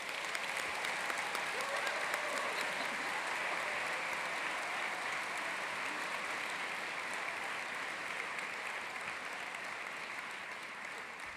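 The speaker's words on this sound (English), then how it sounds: "So let's just give all of these graduate students a rousing round of applause." A crowd at a West Virginia University School of Nursing commencement gives long, even applause for graduating students, dense clapping that stays steady and fades slightly toward the end.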